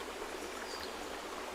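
Running water from a stream, steady and close, with a broad continuous rushing hiss and no voices.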